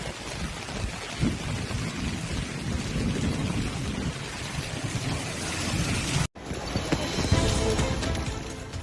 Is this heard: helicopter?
no